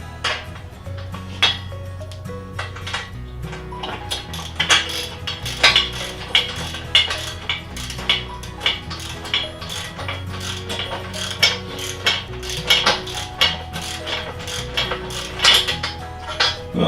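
A socket and ratchet wrench snug bolts on a Harbor Freight Central Machinery 12-ton shop press, giving close metallic clicks and clinks in irregular bursts over a low background hum, with no talking.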